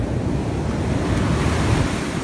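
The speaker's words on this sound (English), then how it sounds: "Oh, more waves." Ocean surf washing steadily onto a beach, a continuous loud roar of breaking waves with wind buffeting the microphone and no pauses.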